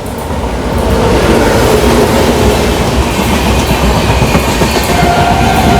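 A train on the Konkan Railway in India rumbles past loudly and close, a dense continuous roar with rattling wheels that swells in the first second and then holds steady.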